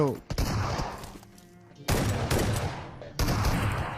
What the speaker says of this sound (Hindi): चारों तरफ ना फायरिंग बहुत आ रही थी भाई